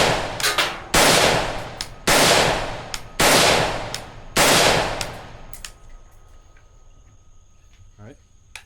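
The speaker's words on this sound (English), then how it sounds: "so here we go with a 13-inch barreled Galil." A 13-inch barreled Galil rifle with a bare muzzle fires Tula rounds outdoors: five sharp, loud shots about a second apart, each with a short echoing tail, then the sound fades to quiet.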